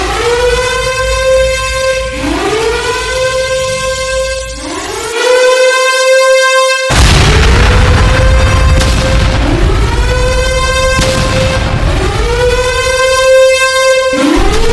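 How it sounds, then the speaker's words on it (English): Wailing alarm siren repeatedly rising and falling, loud and close, interrupted by a sudden heavy explosion boom at Brendam Bay, with the siren continuing over the blast's rumble. "As a ear-shattering explosion boomed in the distance"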